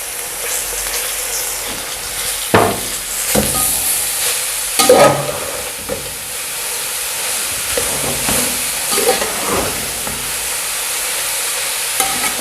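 About two kilograms of grated carrots sautéing in a pan for gajar halwa: steady sizzling and hissing with occasional scraping stirs, close and loud without pause.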